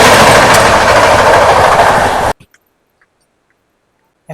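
Jammu Tawi Express (13151) running between stations, a loud, steady rumble of wheels on track that cuts off abruptly after about two seconds, leaving near silence with a few faint clicks.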